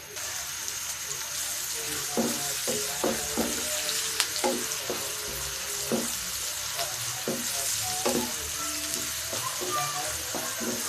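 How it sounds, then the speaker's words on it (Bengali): Chopped onions sizzle and fry in oil in a frying pan, giving a steady close crackling hiss with repeated scraping stirs throughout. "এবার পেঁয়াজটাকে একটু ভেজে নিচ্ছি হালকাভাবে"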